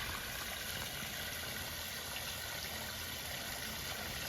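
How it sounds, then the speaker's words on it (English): Steady rushing and splashing water from a small double waterfall about 15 inches high in a pondless garden feature pours continuously, a dense close-up wash of sound with no pauses. "We have a nice double waterfall"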